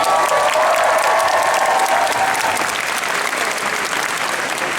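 A crowd at a fan expo panel in Vancouver claps in a steady, dense wash of applause that fades slightly toward the end, with no voices standing out.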